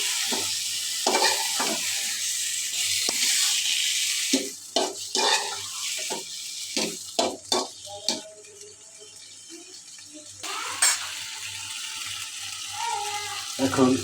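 Taro and shrimp curry stirred in a pan over medium heat, a steady close sizzle with repeated scraping and clicking strokes of the spoon against the pan.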